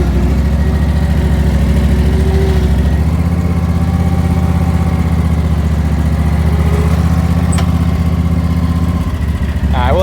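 A lawn mower engine runs steadily after a cold start, a loud close drone that settles to a slightly lower pitch after a few seconds and keeps going without a break.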